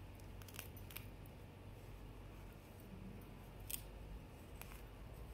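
The blade on a Milagrow Redhawk 21 robot vacuum brush cuts through tangled human hair, giving several quiet, sharp snips spaced irregularly over low background hiss.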